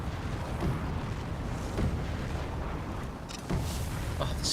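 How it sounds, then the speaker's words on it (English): Explosions in the video game Skyrim, a dense rumbling roar of blasts with several sharper bursts rising near the end, loud and continuous with no talking. "More explosions! Hurrah!"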